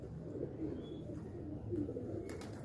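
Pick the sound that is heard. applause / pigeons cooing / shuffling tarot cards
pigeons cooing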